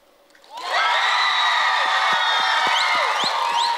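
A conference audience breaks into loud, sustained cheering and whooping for an applause-o-meter contest, rising sharply from near silence and holding a dense roar of shouts close by.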